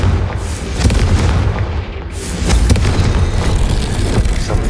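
The Confringo fire spell explodes in Hogwarts Legacy, a loud booming blast with a rumbling tail, followed by a second heavy burst and sustained crackling roar, with no speech over it.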